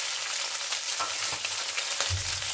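Shredded boiled chicken sautéing lightly with garlic and ginger powder for spring roll filling, a steady close sizzle and fry with soft stirring scrapes throughout.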